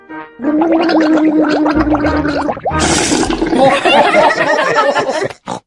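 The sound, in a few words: rinsing mouth with pink liquid and spitting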